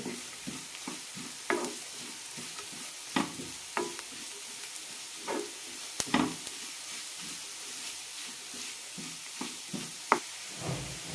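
Grated carrot sautés in a pan for maize rava upma, a soft continuous sizzle broken by repeated scraping strokes of a spoon stirring through the pan, close by with no talking.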